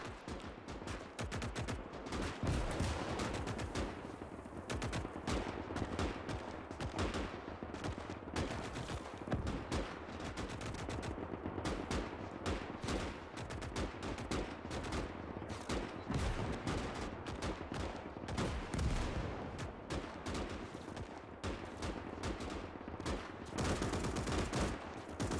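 Dense, continuous gunfire in a Gates of Hell video game battle, with rapid overlapping rifle, machine gun and pistol shots, Nagant revolver among them, crackling steadily and loudly throughout.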